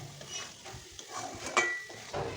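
A spoon stirs a dry-fried loitta fish dish with garam masala in a pan, with soft scraping, gentle sizzling and a sharp clink of metal, faint and close.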